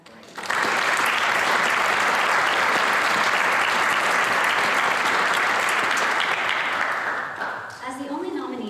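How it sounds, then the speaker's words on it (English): A packed audience at a county youth awards ceremony applauds a nominee in the Family Life category, with loud, sustained clapping that carries evenly for about seven seconds before thinning out at the end. "Please join me in applauding Jade Knox for being nominated in the Family Life category."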